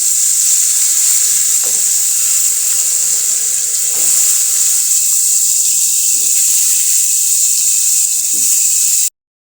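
Sweet gourd dropped into a pan with turmeric, coriander and chili powder: a loud, continuous hiss of sizzling that holds steady throughout, close up, with no talking.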